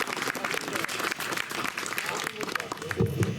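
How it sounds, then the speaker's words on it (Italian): Audience applause at an Italian evening poetry gathering, dense clapping from many hands filling the space loudly and continuously, with some voices mixed in near the end. "Un applauso a Giuseppe Burro."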